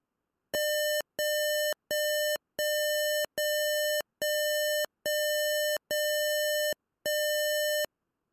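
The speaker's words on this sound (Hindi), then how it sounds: "दस हर्ट्स की फ्रिक्वेंसी पर बजर आपका आवाज़ करेगा" An Arduino buzzer driven by the tone() function sounds a string of nine loud, even electronic beeps, each about half a second long with short gaps between them, steady and alone.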